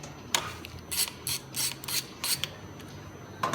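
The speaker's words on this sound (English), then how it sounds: "Next thing you do for the clutch adjustment, you loosen up the nut with the 11/16." An 11/16 wrench loosens the clutch adjustment nut on a Harley-Davidson Dyna Low S, giving several short, close metallic ratcheting clicks in irregular bursts with quiet gaps between them.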